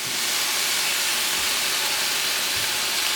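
Steady broadband sizzling and hissing from chicken fajitas frying in a pan, continuous and moderately loud with no talking.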